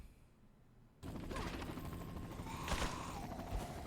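A Killer7 magnum firing in Resident Evil 4, a loud broadband blast bursting in after a quiet second, followed by sustained ringing reverberation and a few further impacts.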